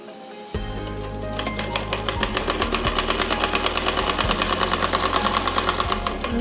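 A sewing machine stitches fabric for a child's frock, starting abruptly and settling into a fast, steady, rhythmic whirring clatter up close, with a low motor hum underneath.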